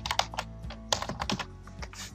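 Typing on a computer keyboard, a quick burst of close, crisp key clicks in uneven rhythm with a few louder strikes.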